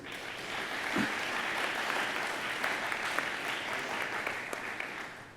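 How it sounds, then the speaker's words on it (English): A seated audience at a Nordic–NATO security event gives steady applause for the Norwegian ambassador to Canada, a dense continuous patter of many hands that holds evenly for several seconds. "Give him a round of applause, please."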